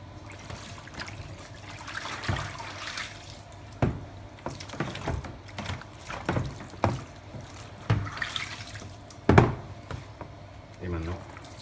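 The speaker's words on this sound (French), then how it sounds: "Pareil, au dos du tirage, on rince." Running water rinses the back of a photographic print after bleaching, splashing and trickling in uneven bursts close by, with occasional handling noises and no clear speech.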